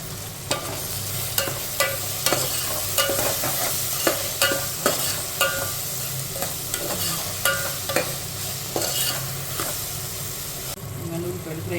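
Sliced onions sizzle and fry in oil for dum biryani while a spoon scrapes and stirs the pan in steady repeated strokes, close and continuous, with someone speaking over it.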